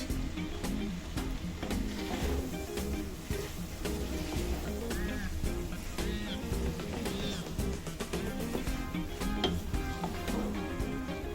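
Chicken keema with onion, fresh coriander and mint being stirred in a hot pan, a steady sizzle and frying crackle with occasional spoon clinks and scrapes, moderately loud and continuous with no talking.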